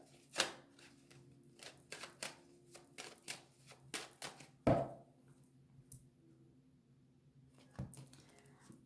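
A deck of tarot cards is cut and handled on a table, giving sharp close taps and papery snaps at irregular intervals over a faint low hum, with one louder slap near the middle.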